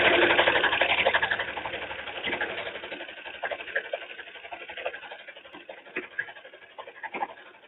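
A sewing machine quilting fabric runs steadily at close range, a continuous mechanical whir that loosens into shorter bursts and pauses toward the end.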